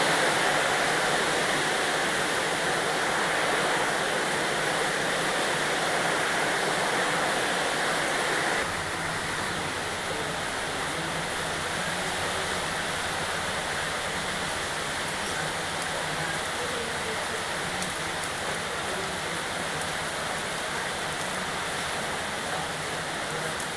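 Heavy rain pours outside a home in the Andaman Islands, a loud, steady broadband roar that runs unbroken for the whole stretch, with a slight drop in level partway through and no voices.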